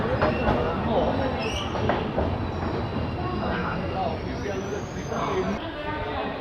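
The Uttarbanga Express rolls into Malda Town station at night with a heavy, continuous rumble of wheels and carriages. Faint high squeals from the wheels rise near the end, and voices murmur on the platform.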